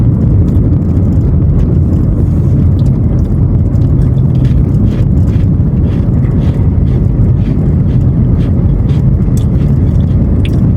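Constant road traffic in a jam, with roadworks along the route, forms a loud, steady low rumble of engines that continues without a break and carries no speech.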